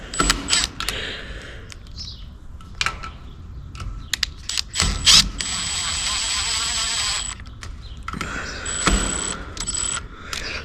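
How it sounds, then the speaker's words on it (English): Screws on a house security gate are worked loose with a tool, giving close metallic clicks, jangles and scraping bursts, including a sustained grinding stretch in the middle. "No need to strip the screws. I gotta loosen it."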